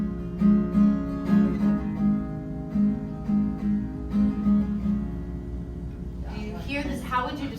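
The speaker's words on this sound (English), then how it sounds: "Here's a major progression." A major chord progression played on a sustained keyboard-like instrument, chords changing in a steady rhythm, close and moderately loud, with a brief burst of other sound at the very end.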